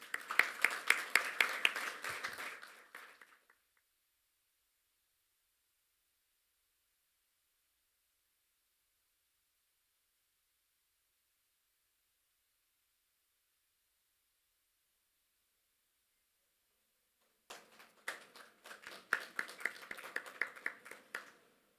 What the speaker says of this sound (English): And a huge round of applause for him.